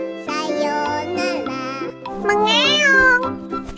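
A cartoon cat character meows in a high, drawn-out voice, apparently a person imitating the cat over background music, with two or three rising and falling calls close up.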